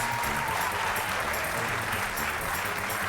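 A TV game show studio audience claps and cheers for the winner, a dense, loud, continuous burst of applause filling the whole stretch.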